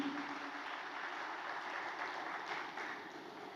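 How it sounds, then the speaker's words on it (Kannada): A church congregation at an anniversary service claps together in a steady, fairly distant wash of applause that holds evenly throughout. "अरे ताली बजाना है, जोश के साथ ताली बजाओ"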